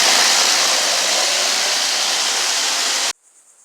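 A parts tumbler cleaning bolts from a 1958 Plymouth restoration runs with a loud, steady, broadband hiss and rumble. It cuts off abruptly near the end and leaves a faint residual tone.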